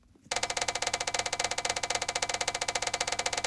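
A prize wheel spun for a fantasy baseball divisions draft gives a steady rapid ticking clatter that starts abruptly and runs on evenly, close and fairly loud.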